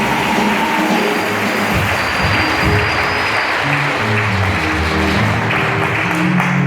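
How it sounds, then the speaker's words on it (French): A church hall audience at a wedding blessing breaks into loud, sustained applause and cheering that fills the room evenly and continuously, close and dense, with no break. "Acclamez très fort le Seigneur"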